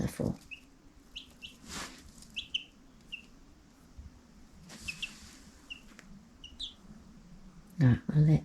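Newly hatched chicks in a brooder give repeated high, short peeps at irregular intervals, fairly faint, with a few soft knocks and a brief louder thump near the end.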